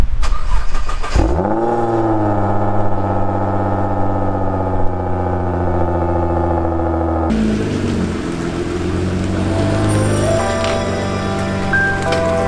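A custom Nissan GT-R cranks and fires up in a garage, settling into a loud, steady idle with a throbbing low hum, then shifting to a rougher, busier engine note partway through, close and alone.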